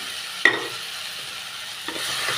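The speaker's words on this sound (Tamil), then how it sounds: "நல்லா மிக்ஸ் பண்ணி விட்டுக்கலாம்" Boiled potato pieces are stirred into a sautéed tomato gravy for potato paya, a gentle sizzle under a couple of spoon knocks against the pan.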